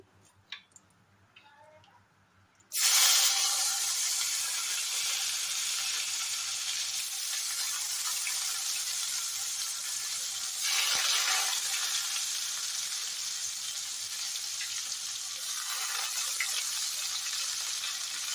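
Chopped ginger and garlic hit hot oil with whole cumin seeds in a wok, bursting into a loud, steady sizzle that holds continuously, swelling briefly midway, with no talking over it.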